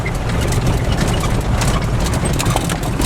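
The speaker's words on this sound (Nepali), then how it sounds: "बाइकमा चलिरहेको" A motorcycle engine drones loud and steady while riding along hill roads toward Kusma bazaar in Nepal, with continuous engine rumble and road and wind noise close up and no talking.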